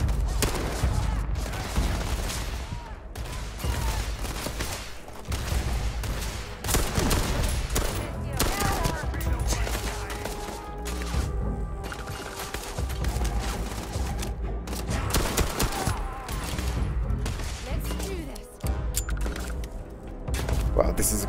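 Heavy weapon fire in Starfield, with repeated loud bursts and booming shots spread across a long combat stretch, mixed with explosions and game effects while a player talks over it.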